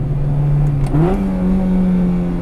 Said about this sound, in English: the quickest revving, the quickest blipping K-Series that I've personally experienced